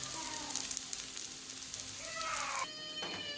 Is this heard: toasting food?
yes